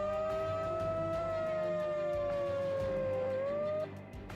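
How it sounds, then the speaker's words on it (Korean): Warning siren sounding before blasting at a construction site near homes, one long loud wailing tone held steady and sliding slightly lower before rising and cutting off near the end, with nobody talking. "발파를 알리는 사이렌 소리에 이어"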